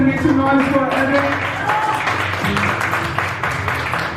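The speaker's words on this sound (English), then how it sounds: "why don't you all clap your hands and make some noise for Evan?" An audience at a corporate fashion show in Bangalore claps and cheers while a voice talks over the noise, with the applause holding steady throughout and music-like tones underneath.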